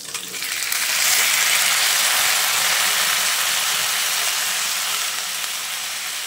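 Raw mango pieces dropped into hot oil with browned garlic, a loud, dense sizzle that swells quickly and holds steady with faint stirring, no talk.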